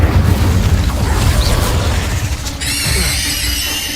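The Incendio fire spell in Hogwarts Legacy goes off as a loud booming burst with a crackling, whooshing roar that fades into a bright ringing shimmer near the end.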